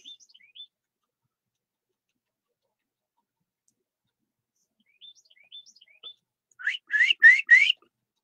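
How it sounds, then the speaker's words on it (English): Birds whistle and chirp outdoors in the morning: a couple of short, faint whistled phrases, then near the end a loud burst of four or five quick chirps. Quiet gaps lie between the calls, and no one speaks. "you hear the birds chirping,"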